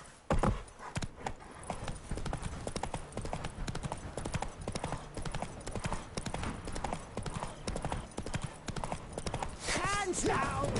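Hooves beat in a fast, continuous galloping clip-clop from a horse in The Witcher 3, loud and close throughout, with a brief whinny-like cry near the end and a voice talking over parts of it.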